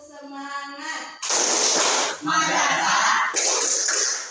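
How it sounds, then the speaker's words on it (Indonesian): A madrasah class of children, standing, performs a rhythmic clapping chant, a voice calling out first and then loud bursts of group claps mixed with shouted chanting in quick sequence. "Tepuk semangat."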